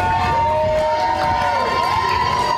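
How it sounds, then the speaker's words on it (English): Camp counselors lined up cheering to welcome arriving kids at a summer camp, a loud crowd of shouting and whooping voices with a sustained high yell over continuous cheering. "When kids arrive, camp counselors line up and cheer while welcoming the kids to their camp day."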